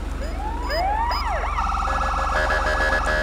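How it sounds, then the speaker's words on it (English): Several old-style police siren tones in a video game sweep up and down over each other, settling into a warbling wail over a steady low engine hum, synthetic and close. "it's got the retro light bar and it's got the old sirens as well"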